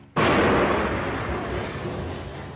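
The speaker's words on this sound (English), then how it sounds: "The terrorists panic, open fire and throw a hand grenade." Loud hand grenade blast tears through an airport amid gunfire during a terrorist hostage standoff, one sharp onset followed by a sustained, roaring rumble that slowly fades over the next couple of seconds.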